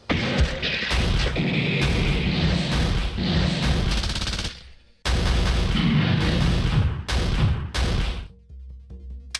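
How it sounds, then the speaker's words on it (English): Grenade launcher blasts in The Thing RPG game, a dense run of loud booming explosions and crashes that cuts out briefly midway, then resumes with more heavy impacts before fading. "As for this guy, I'm gonna use the grenade launcher."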